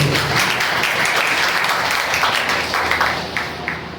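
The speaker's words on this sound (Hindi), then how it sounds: "हम तालियां बजा सकते हैं" Audience applause at a Hindi-Urdu gathering: dense, steady clapping from many hands that holds level for the whole span, then eases slightly near the end.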